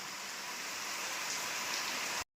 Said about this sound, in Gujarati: જો મસ્ત વરસાદ પડે છે ચલાળામાં